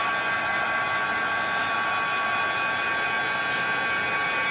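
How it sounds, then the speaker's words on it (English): A blow dryer runs loud and steady at close range, drying Distress Oxide ink on a butterfly card, with no talking over the continuous whoosh. "I'm going to do a lot of drying, so please pardon the noise."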